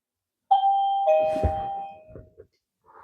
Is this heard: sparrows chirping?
no